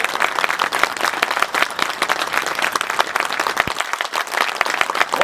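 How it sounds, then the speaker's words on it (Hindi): Sustained, dense applause from a large audience at a political rally in Kairana, steady and loud for the full stretch with no speech on top. "आप सब लोग 1 मिनट तक लगातार ताली बजाकर कुंवर विजय जी का स्वागत करने का काम करें।"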